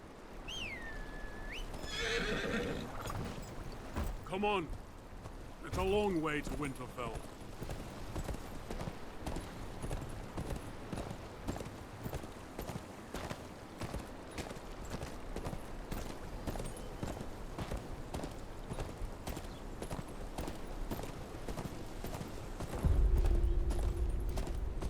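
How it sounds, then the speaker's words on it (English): Horse in the Game of Thrones Kingsroad video game whinnies near the start, then its hooves clip-clop steadily for most of the stretch, with a brief spoken line over the early part. "Where's your horse? Mount up and let's go."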